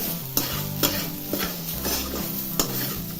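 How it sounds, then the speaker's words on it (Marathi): Ingredients for sabudana khichdi sauté in a pan, with a steady sizzle under frequent stirring and a few sharp utensil clacks against the metal, and no talk. "जास्त नाही आहे एका मिनिटासाठी परतायचा आहे"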